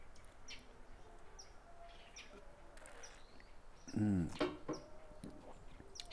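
Faint birds chirp and tweet in the distance outdoors, with a brief louder burst of calls midway over a quiet background hiss.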